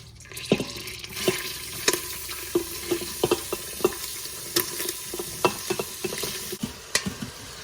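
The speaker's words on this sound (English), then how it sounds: "Now that our butter is melted, I'm going to add in all our vegetables." Vegetables sauté in melted butter inside an Instant Pot, a soft sizzle with repeated spoon clacks and stirring scrapes against the pot at close range, no talking.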